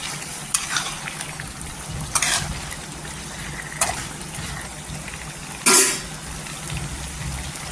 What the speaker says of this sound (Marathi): इथे चिकन टाकली ना इथे पाणी टाकणार नाही, पूर्णपणे तेलामध्ये शिजवून घ्यायचे आहे।